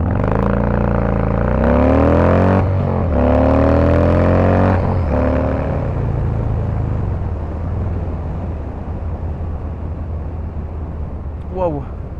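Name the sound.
Harley-Davidson Fat Boy 114 motorcycle accelerating 0-100 km/h from standstill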